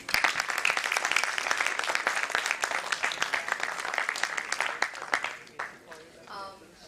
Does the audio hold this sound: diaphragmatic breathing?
no